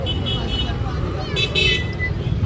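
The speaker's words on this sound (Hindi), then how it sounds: "रुको देखना भाई, तेजी से गाड़ी आ रही है।" A vehicle speeds past on a road with traffic noise and a brief horn toot, loud and close, while voices talk over it.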